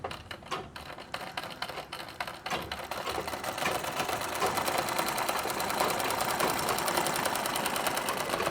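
A sewing machine runs a zigzag stitch across nauvari saree fabric, starting with a few short stop-start bursts and then settling into a steady, close, rapid mechanical whirr that carries on to the end.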